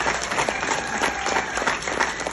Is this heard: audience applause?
yes